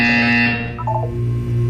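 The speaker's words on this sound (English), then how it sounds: "When you hear the buzzer, look up at the ceiling." A buzzer in the Portal 2 video game, a loud, steady electronic tone with a sustained hum beneath it and a brief warbling blip near the middle.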